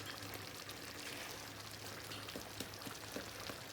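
Mutton yukhni pilau simmering in a pot on medium heat, a quiet steady bubbling and sizzling hiss with faint scattered pops.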